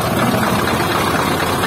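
Motor of the vibro attachment on a Komatsu PC400 excavator running as a steady, loud, dense mechanical drone with a low rumble throughout, no pauses.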